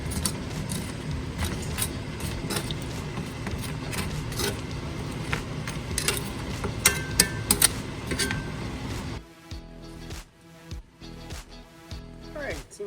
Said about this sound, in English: let's give those guys a click here, and just make sure we turn them all over here